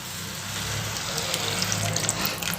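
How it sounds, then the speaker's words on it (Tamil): Half a glass of water pours into onion masala in a cooking pot, a steady close gush and splash running the whole time over a low background hum. "இப்போ ஒரு 1/2 கிளாஸ் தண்ணி சேர்த்துக்கலாம்"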